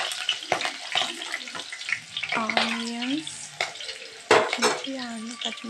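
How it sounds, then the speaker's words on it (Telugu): Cumin, mustard seeds and chillies fry in hot oil with a close, busy sizzle and crackle, and a spoon clinks against the pan at intervals; a voice briefly sings or hums tonal phrases over the cooking. "జీలకర్ర, ఆవాలు, మిరపకాయ ఆయిల్ వేడెక్కినాక వేయండి."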